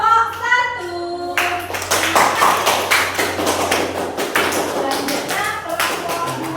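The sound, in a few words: applause for group 1 in a classroom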